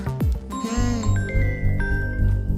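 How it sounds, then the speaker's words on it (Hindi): A bright electronic chime melody rings out clearly in repeating tones, with a short swooping sound at the start. "देखो फोन तो आ गया उसका।"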